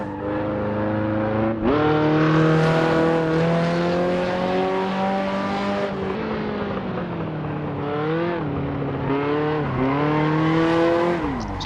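Simulated rear-wheel-drive race car engine revving loud and close, its pitch climbing and dropping repeatedly as the car accelerates, shifts and lifts off, running continuously without any voices.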